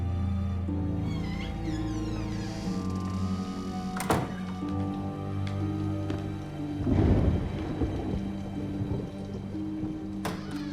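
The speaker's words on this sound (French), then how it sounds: "Arrête, Amanda, c'était que l'orage" A thunderstorm with rain in a supernatural thriller film: a low rolling thunder rumble swells midway beneath sustained musical tones and a steady wash of background noise.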